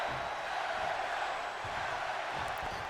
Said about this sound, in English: the crowd is behind the Megastar